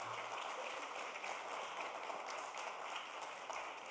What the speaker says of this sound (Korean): 스트롤러의 아기를 데리고 예배에 참석해서 큰 박수로 환영해 주겠습니다.